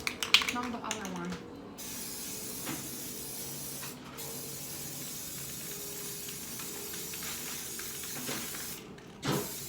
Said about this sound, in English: we're gonna go ahead and spray this one again